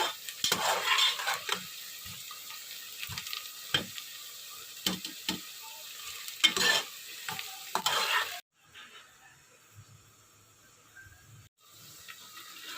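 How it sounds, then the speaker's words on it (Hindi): Onions frying in a pot for beef korma sizzle and crackle with repeated stirring scrapes for about eight seconds, then the sound drops to a faint, quieter hiss. "प्याज हमारा फ्राई हो रहा है"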